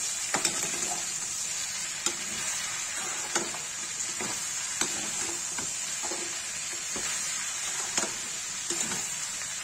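Okra and potato sabzi being stirred in a pan, with a steady sizzle of frying and spaced scrapes of the spoon against the pan every second or so, close and continuous, with no talking.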